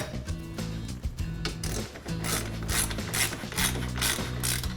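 Bolts being tightened on a MODZ tower top fitted to a Club Car Precedent golf cart, giving a steady run of rapid ratchet clicks in several bursts, close and fairly loud.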